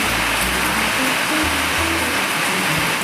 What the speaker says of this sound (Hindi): और देखो बारिश एकदम झमाझम वाली बारिश लगी हुई है।